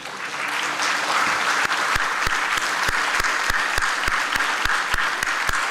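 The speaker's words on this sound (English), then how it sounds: "I want all the graduates to stand up and applaud your parents." Engineering graduates stand and applaud their parents at an award ceremony, producing sustained, loud applause that fills the hall, with a few sharp, close individual claps punching through the steady wash of the crowd's clapping.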